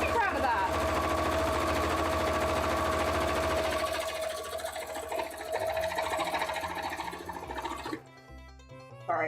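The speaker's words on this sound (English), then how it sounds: "how do people feel about the sewing machine noise?" A sewing machine stitching mock-up garments runs in a fast, even, loud mechanical rattle, slowing near the end and stopping abruptly, then restarting briefly.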